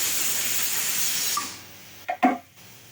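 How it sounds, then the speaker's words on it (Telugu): Steam hisses steadily from a pressure cooker of tomato rice on a gas stove, a continuous close hiss that fades out partway, followed by a couple of brief clanks. "కుక్కర్కు ఉండే ఆవిరంతా పోయిన తర్వాత మూత తీసి చూడండి"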